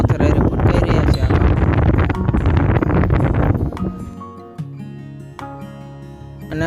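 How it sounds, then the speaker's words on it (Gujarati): Wind-driven waves slap against the stone embankment of the Machchhu dam in Morbi, under heavy gusting wind buffeting the microphone for the first few seconds, then easing to a quieter wash with scattered knocks and splashes. "પવનના મોજા પણ આવી રહ્યા છે, પથ્થર હારે ફટકાઈ રહ્યા છે."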